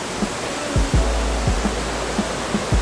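An Oregon creek rushes steadily over small pour-offs, a broad close wash of flowing water with soft low thumps recurring through it.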